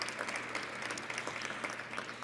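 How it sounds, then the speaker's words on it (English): Steady applause from an awards audience for John Siegenthaler at the 2019 Free Expression Awards, a dense and even patter of many hands throughout, heard at moderate distance. "we should definitely give a round of applause for John Siegenthaler"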